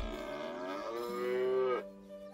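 A cow in South Park: The Stick of Truth lets out one long, loud moo after being hit; the bellow rises and sustains for nearly two seconds before stopping sharply, heard clearly with no speech.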